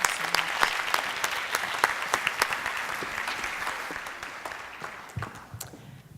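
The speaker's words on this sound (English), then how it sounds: "another round of applause" Audience applause fills a room at a Tech Week 2017 startup pitch event, a steady, dense patter of many hands clapping that holds fairly loud, then thins and tapers off toward the end.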